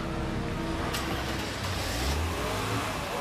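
A car engine idles and revs steadily nearby, a continuous low rumble with a slight rise in pitch midway, heard alone without talk.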